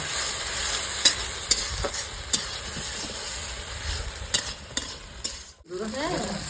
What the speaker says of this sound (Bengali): এখানে দিয়ে দেবো আদা রসুনের পেস্ট ভালো করে কষতে নেব